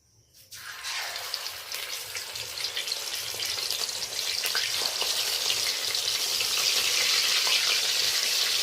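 Bottle gourd leaf pakoras stuffed with prawns fry three at a time in a karahi of hot oil. Sizzling bursts in after a brief quiet start and swells into a dense, steady crackle that grows louder toward the end.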